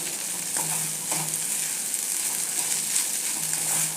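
Okra with besan frying in a pan, a steady close sizzle with a few brief scraping stirs near the start, no talk.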